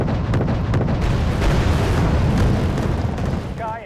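Bombs from an air strike in Wargame: Red Dragon, a loud sustained rumbling boom of explosions with rolling low-end bursts over nearly four seconds, fading slightly at the end.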